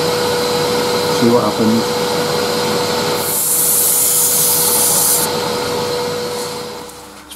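A power sander works over an MDF piece, its rough whirring grind swelling briefly into a harsh, hissing burst partway through before fading, while a person talks over the machine noise.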